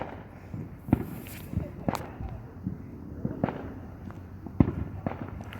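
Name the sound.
fireworks exploding in the distance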